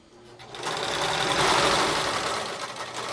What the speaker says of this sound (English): put the pedal back down, and then reverse a few stitches, and then you keep going forward